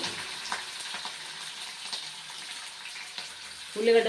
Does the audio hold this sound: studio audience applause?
no